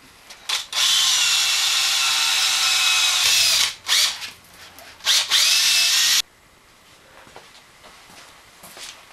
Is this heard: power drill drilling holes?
yes